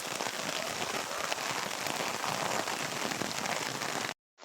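Steady rain pours down onto the ground, a dense continuous hiss of drops spread across the whole clip at an even, fairly close level, cutting off abruptly near the end.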